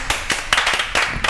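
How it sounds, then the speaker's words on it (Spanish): A few people clap in uneven bursts during a lively Cuban celebrity chat, about half a dozen sharp, close claps with small gaps, no talk over them. "¡Un aplauso!"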